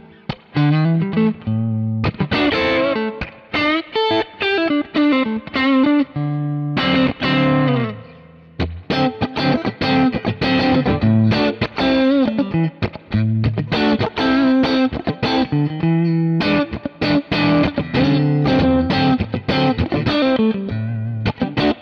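A clean electric guitar through a 1964 Vibro Reverb amp profile on a Kemper plays chords and melodic phrases with a warm, shimmering tone and reverb, pausing briefly between passages.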